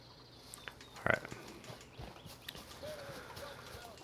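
Horse hooves clop in a steady walking rhythm as a rider heads back to camp in Red Dead Redemption 2, soft and mid-distance over quiet ambient background, with one brief louder knock near the start.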